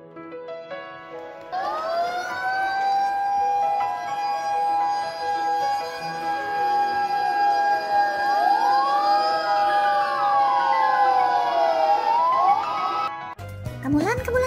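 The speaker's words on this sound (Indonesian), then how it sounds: "itu bunyi sirene mobil pemadam kebakaran" A fire engine siren wails loudly and continuously, rising and falling in pitch, then cuts off abruptly near the end.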